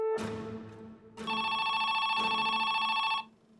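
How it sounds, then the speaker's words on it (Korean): A telephone rings at a police station at night: one short electronic ring, a brief pause, then a longer sustained ring with a bright, harmonically rich tone that stops abruptly, with no voices over it. "경찰서로 한 통의 전화가 걸려옵니다"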